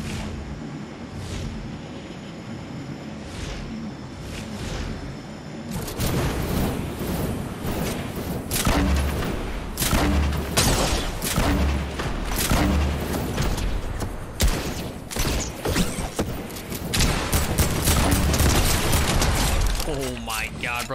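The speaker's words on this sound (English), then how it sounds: "The grenade launcher is actually kind of insane" Grenade launcher in Fortnite firing and exploding in the Tilted area, a busy stretch of repeated booms, pops and mechanical clatter rising abruptly after a quieter start, with people talking over the action.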